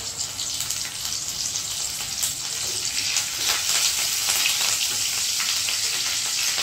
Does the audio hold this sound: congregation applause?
no